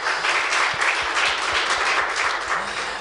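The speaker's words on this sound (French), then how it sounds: "que je vous demande d'applaudir très fort" A studio audience at a televised cultural programme gives the technical crew loud, sustained applause that holds evenly from start to finish.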